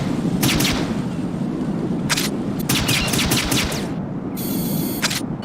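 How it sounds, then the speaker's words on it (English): Sharp, rapid cracks from the PSG-1T tranquilizer sniper rifle in Metal Gear Solid 2, coming in short clustered bursts over a steady low rumble, followed by a brief mechanical whir near the end. "PSG-1T that you have there is a PSG-1 with a modified barrel for firing tranquilizer rounds"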